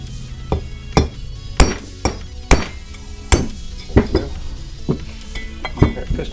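Sharp metallic hammer taps ring out about a dozen times at an uneven pace, knocking the piston out of a Honda Del Sol front brake caliper; close and loud, with no talking.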